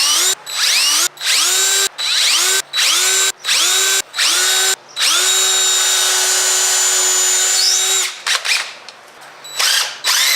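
Power drill pre-drilling holes in wood for 3.5-inch screws, with the motor spinning up in a rapid series of short bursts, then one long sustained run and a few final blips, loud and close.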